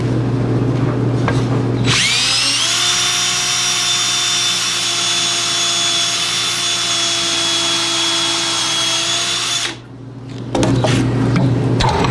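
A power drill fitted with a nail in place of a bit bores a hole, its motor whining at a steady high pitch for about eight seconds, loud and close, then stopping before a brief burst of clatter.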